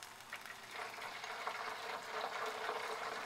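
Salted water in a pot heating for plantain chips, with a steady bubbling hiss that holds throughout and grows slightly louder toward the end, close and alone without talk.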